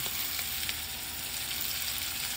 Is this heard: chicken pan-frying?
yes